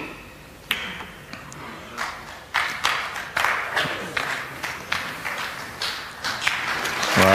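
Scattered, moderately loud hand claps ring out from the snooker crowd at the 2005 Masters final between Ronnie O'Sullivan and John Higgins, applauding a safety shot. The claps come as irregular distinct slaps over a low room hum and build gradually toward the end.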